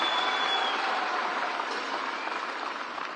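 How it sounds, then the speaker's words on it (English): Audience applause at a Kenya Kwanza manifesto event for the Deputy President, a steady, dense wash of many hands clapping that stays even and fairly loud throughout, with a faint whistle-like tone early on. "Another round of applause for His Excellency, the Deputy President,"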